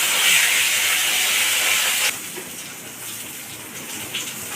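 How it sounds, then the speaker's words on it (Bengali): Fish fries in a wok of hot oil in a home kitchen, giving a loud, steady close hiss that drops abruptly to a quieter sizzle halfway through. "লাস্ট রাউন্ড মাছ ভাজা চলছে।"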